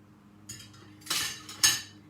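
A metal stand is lifted out of an Instant Pot, giving a few close metallic clinks and clanks, three distinct knocks over about two seconds against a quiet background.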